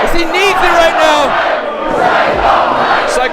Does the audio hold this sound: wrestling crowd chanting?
yes